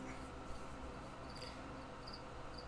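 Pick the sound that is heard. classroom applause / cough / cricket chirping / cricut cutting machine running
cricket chirping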